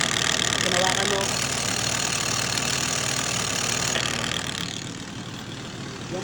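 A Yamaha TZR 250 3MA SP motorcycle idling, its dry clutch rattling with a steady metallic chatter over the engine hum, fairly close, easing off toward the end.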